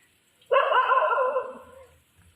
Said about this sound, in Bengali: আর নিচের কুকুরগুলো কেমন করছে